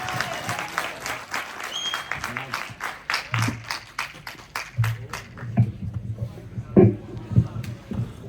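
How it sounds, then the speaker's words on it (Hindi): An audience at a poetry recital in Kishtwar claps for a poet, crisp hand claps that start dense and thin into scattered claps, with voices and low thuds underneath. "जोरदार तालियां।"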